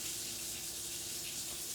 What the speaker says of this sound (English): I am concentrating because I'm draining the water out of here.